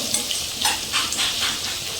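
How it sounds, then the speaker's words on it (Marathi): Chopped onion sautéing in oil in a pan, a steady close sizzle with soft scraping strokes of stirring over the hiss. "कांदा घालून घ्यायचा आणि तो व्यवस्थित असा गुलाबी रंग येईपर्यंत परतून घ्यायचा आहे।"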